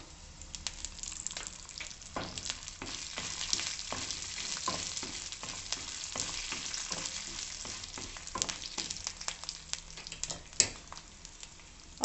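Garlic pods and fenugreek seeds fry in a pan, a steady close sizzle and crackle with frequent sharp pops and stirring scrapes running throughout.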